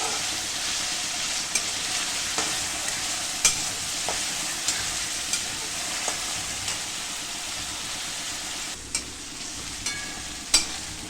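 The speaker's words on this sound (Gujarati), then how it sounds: "ઝીણા સમારેલા ટમેટાં નાખશું. એને બરોબર સતરાવા દઈશું." Finely chopped tomatoes sauté in a pan for pav bhaji with a steady, bright sizzle, broken by regular light knocks of a spoon stirring against the pan. No one talks.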